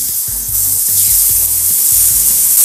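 Chicken breast seasoned with salt and black pepper and marinated in olive oil, frying on a hot grill: a steady loud sizzle hiss with low rubbing and knocking sounds of handling over it.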